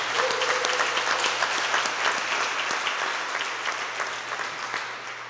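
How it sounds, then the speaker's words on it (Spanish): A church congregation at an evangelical service applauds, dense, steady clapping from a full room that holds for several seconds and then starts to fade. "Dale un aplauso si crees esto."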